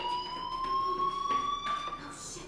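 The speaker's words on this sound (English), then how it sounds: "Hey, do you hear that fire alarm?" A school fire alarm rings in the video game Life Is Strange, a continuous steady electronic tone sounding alone at moderate volume, with some faint background noise.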